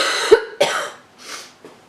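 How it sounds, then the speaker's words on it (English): A woman coughs twice in quick succession, close and fairly loud, with a fainter trailing breath or throat sound after, in an indoor sewing and knitting setting. "Excuse me, I coughed again."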